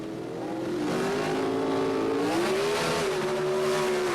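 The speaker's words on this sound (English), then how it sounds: "Here he is facing Andy Manarino, driving the Hornet X." A Pro Stock drag car, the AMC Hornet X, launches off the line at a 1977 race, loud engine howl swelling up and climbing in pitch as it pulls away, with no talking.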